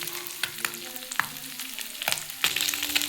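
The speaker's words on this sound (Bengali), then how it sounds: "দেখুন বন্ধুরা আমার মাছটা ভাজা হয়ে গেছে" Small fish fry in hot oil with a steady crackling sizzle, broken by occasional sharp pops and the scrape of stirring. The sound is close but fairly quiet, with nobody talking.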